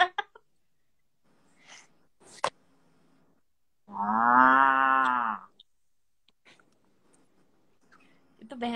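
Human voice imitating a buffalo, one long drawn-out lowing moo in the middle, close and loud, with brief bits of talk and clicks before and after.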